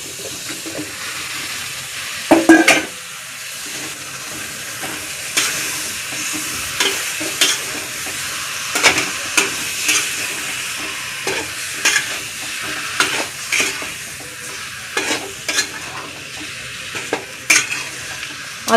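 Turmeric-and-salt-marinated chicken sizzles steadily in a wok while a spoon scrapes and stirs it in irregular sharp strokes, some louder clanks standing out above the frying.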